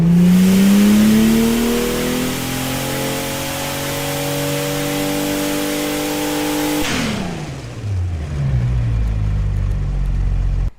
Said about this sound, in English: you can dyno test the engine and you can actually hear it roar